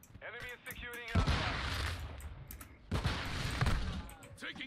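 Heavy gunfire rages in a Modern Warfare 2 multiplayer match, two long dense bursts of rapid shots and explosive blasts, loud and close, with voices talking over the opening moments.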